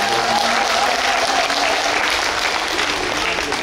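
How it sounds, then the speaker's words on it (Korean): Loud, sustained audience applause at an outdoor Korean pungmul folk percussion performance in Seoul, a dense crowd clapping steadily without a break. "모두 수고하셨다고 박수 한번 부탁드리겠습니다."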